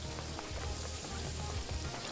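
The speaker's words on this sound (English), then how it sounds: "Please, is there like a disable rain option I could get?" Steady rain falls in the video game Paradise Killer, a dense, even patter of drops striking surfaces that runs unbroken and fairly loud, with no voices over it.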